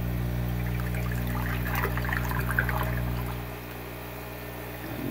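Water rushes and gurgles steadily out of an aquaponics mineralisation tank through an opened valve, over a low mechanical hum, easing off slightly near the end.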